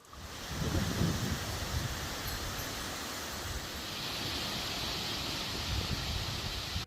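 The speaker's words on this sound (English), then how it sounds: "that wind is doing a little bit too much for this tiny guy" Wind blows outdoors in a steady, rushing wash of noise that buffets the microphone, swelling slightly in gusts over several seconds, with no voices.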